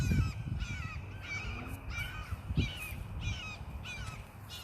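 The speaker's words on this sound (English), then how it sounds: "That bird really won't shut the fuck up." Crow cawing persistently in repeated harsh calls, roughly one per second, over a low rumbling background with no speech, set in an Attack on Titan fan scene.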